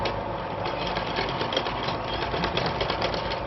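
A sewing machine runs steadily while stitching a quarter-inch seam on a blouse, a close, continuous rapid mechanical whirr with even stitch pulses and no talk.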